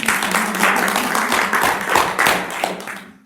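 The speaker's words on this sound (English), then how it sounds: "Give yourselves a round of applause." A small group applauds themselves at the close of a podcast episode about quilting bags, with steady, fairly loud clapping that holds for about three seconds before cutting off.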